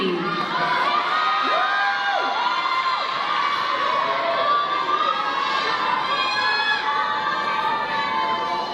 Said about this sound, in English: Give them a round of applause for a wonderful job done